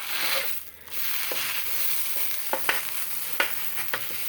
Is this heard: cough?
no